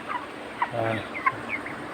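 Soft, short clucks from a few broiler chickens on a poultry farm in Bangladesh over a low background hum, fairly close and intermittent.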